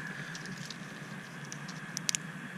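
Faint outdoor background hiss in a soybean field, then a few sharp, dry crackles near the end as dry soybean pods split open, close by and brief.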